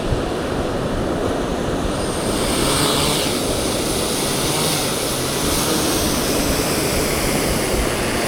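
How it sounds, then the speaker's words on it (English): A drone launches on a beach and flies overhead, a loud, steady whirring drone with wind and surf-like noise throughout, no voices. "Okay, we're gonna launch the drone."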